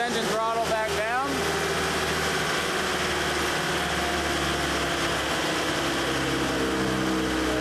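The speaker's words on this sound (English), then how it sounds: "I'll lower this engine throttle back down." The engine of a 50TJ conveyor machine idles at low throttle as a steady, close drone after a brief drop in revs, with someone talking over it.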